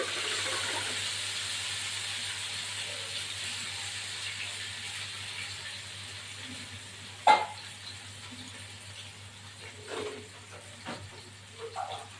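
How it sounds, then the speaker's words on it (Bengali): A bowl of water goes into a hot masala of garlic, ginger and green chilli cooking for chicken, setting off a strong hiss and sizzle that starts loud and slowly fades, with a few stirring clinks and no speech. "এবার এই জলটা দিয়ে দিলাম"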